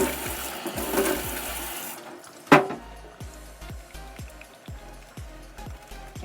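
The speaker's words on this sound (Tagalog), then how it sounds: "let's wash our face" Tap water runs loudly at first during face washing, then stops, followed by splashing, a sharp clatter and a series of rhythmic drips and soft splashes.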